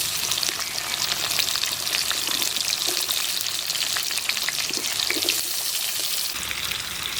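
Potatoes fry in a pan until browned, making a dense, continuous sizzle with crackling spatter. It is loud and close, steady from start to finish with no talking.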